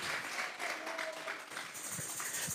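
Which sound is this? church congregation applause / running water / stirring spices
church congregation applause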